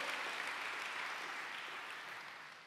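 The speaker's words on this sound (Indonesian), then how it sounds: "Tepuk tangan buat dia, saudaraku." A church congregation applauds steadily, a dense, even wash of clapping that holds at a constant level before easing slightly toward the end, with no voices standing out.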